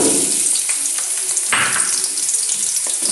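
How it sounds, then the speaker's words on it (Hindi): Onions dropped into hot oil in a pot, giving a steady, loud hiss and sizzle with a brief surge about halfway through, close up and without voices. "एक पतीले में हस्बे ज़रूरत ऑयल गरम करेंगे और उसमें शामिल कर देंगे प्याज"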